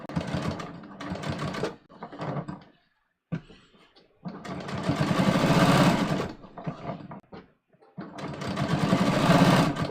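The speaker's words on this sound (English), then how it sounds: "I'm going to understitch about 1/8 of an inch away, so it will encourage my facing to turn inside" A sewing machine understitches a jeans waistband facing in several bursts, its rapid mechanical whir stopping and restarting between runs and close to the listener.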